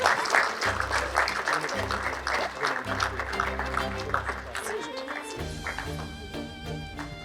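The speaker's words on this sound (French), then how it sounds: "On applaudit, on applaudit." An audience applauds at the Kitchen Battle season 2 grand finale, clapping rising over music and talk, with voices carrying through the applause.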